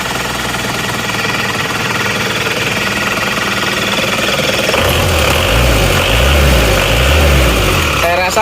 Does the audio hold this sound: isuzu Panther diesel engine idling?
yes